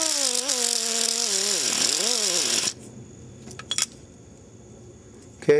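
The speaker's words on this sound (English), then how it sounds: "So I'm going to clean that spot up with my little grinder" Small handheld grinder cleaning up a burr on metal during a 2005 VW Golf shifting repair, a loud whine that winds down after a few seconds, followed by quieter handling noises and a short final burst.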